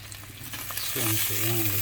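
Ribeye steak sizzles loudly in a hot pan, a steady crackling hiss that grows fuller partway through as a voice murmurs over it.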